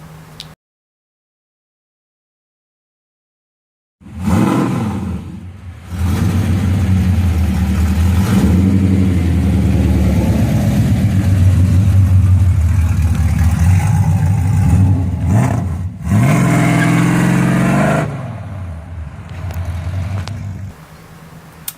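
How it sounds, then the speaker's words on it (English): Chevrolet Camaro driven hard, its engine roaring loud and close with repeated rev swells and short dips, starting abruptly after about four seconds of silence and running to the end. "the little video clip of my brother driving it and showing how loud it is"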